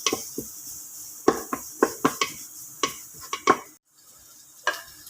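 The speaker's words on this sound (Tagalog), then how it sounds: "I-fry na natin ang luya. So, ito na yung luya at saka yung bawang." Ginger and garlic stirred in a pan, a string of sharp close scrapes and clacks of a utensil against the pan over a faint sizzle, then a short pause and one more stir.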